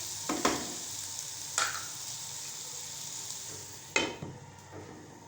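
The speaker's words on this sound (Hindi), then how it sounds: "अब हम इसको ढाँप कर 2 मिनट तक पकाएंगे, ताकि टमाटर जो हैं वो नरम पड़ जाएं।" Tomatoes cooking in a covered pan for chickpea pulao, a soft steady sizzle broken by a few sharp clinks of a lid or spoon against the pan, no talking.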